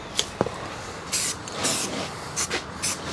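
Aerosol spray cans hiss in several short bursts of spray paint in a speed shop, each burst roughly half a second long, with a couple of faint knocks between them and no talking.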